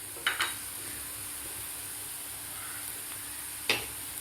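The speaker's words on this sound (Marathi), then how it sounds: "आता 1 मिनिटभर आपल्याला हे परतून घ्यायचं आहे" Chopped onion with turmeric, red chili powder and coriander fries in a pan for peanut chutney, making a steady close sizzle broken by a few sharp scrapes of a stirring spoon.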